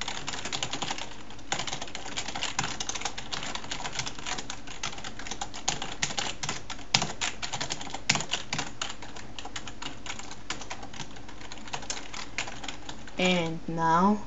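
Typing on a computer keyboard while entering C++ code, a steady run of close, dense key clicks that keeps going for most of the stretch, with a brief squeaky noise near the end.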